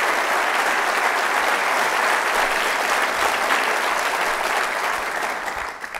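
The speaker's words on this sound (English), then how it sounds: "When I get that much applause before I speak" A large audience applauds warmly at a religious liberty event before the speaker begins, a dense, steady wash of clapping that holds for several seconds and then starts to fade near the end.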